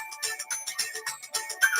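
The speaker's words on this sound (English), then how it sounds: "Get an order alert on your phone so it's easy to cancel if you change your mind." A phone sounds an order alert, a short, bright electronic ringtone in a steady, repeating pattern of pulsing chimes, close and clear with no talking.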